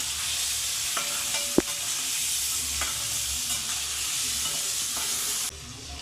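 Masala stir-fried for a mutton fry gives a steady, loud sizzle throughout, with a few sharp clinks of a spoon against the pan.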